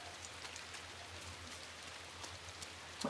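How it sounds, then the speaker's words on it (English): Steady soft rainfall with faint patter of drops, quiet and continuous throughout, in the video game Inside. "it's raining out"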